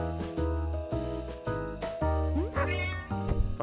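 A cat in a street at night gives a run of loud, close, drawn-out meows and caterwauls, one after another, with tonal cries layered over background music.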